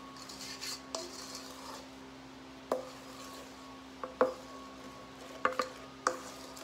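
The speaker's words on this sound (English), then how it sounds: "Now all we're going to do is stir this up." A spoon stirs brownie nut pie filling in a bowl, giving a soft, steady scraping under a few sharp clinks against the bowl's side. It is quiet and close, with no talking.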